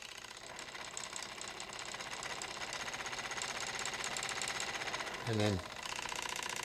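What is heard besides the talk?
generator motor speeding up then slowing down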